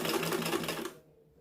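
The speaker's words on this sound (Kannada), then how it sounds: "ಫೋಲ್ಡ್ ಮಾಡಿಬಿಟ್ಟು ಒಂದು ಸ್ಟಿಚ್ ಹಾಕಿ" Sewing machine stitching a folded seam on a saree blouse, a close, steady mechanical rattle running for about a second before stopping abruptly.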